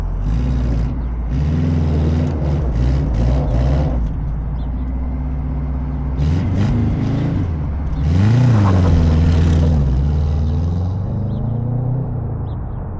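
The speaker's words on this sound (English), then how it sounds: "And now it just sounds like a normal car." An old Subaru's engine idles loudly and then revs up several times, rising and falling in pitch, close by with a rough rumble.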